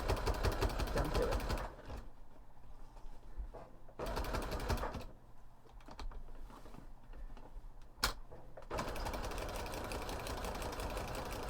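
A sewing machine stitches a corset in bursts of rapid, buzzing mechanical chatter, running, pausing, then running again, close and fairly loud, with a sharp click midway and a quiet voice in the gaps.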